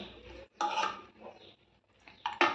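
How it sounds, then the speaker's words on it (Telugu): Amaranth leaves and moong dal fry being mixed in a pan, giving short bursts of metal scraping and clinking that come in clusters with brief pauses. No one talks. "ఇది బాగా మిక్స్ చేసేసుకుందామండి"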